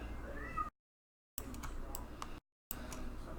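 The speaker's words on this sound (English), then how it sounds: "fuzz butts are meowing" Cats meowing in a few short calls, faint and near, broken by gaps of silence, with a light ticking in the background.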